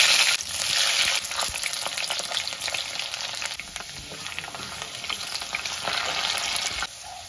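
Potatoes and onions frying in hot oil for a mustard fish curry, a steady close sizzle with faint crackles and occasional stirring, running alone without voices.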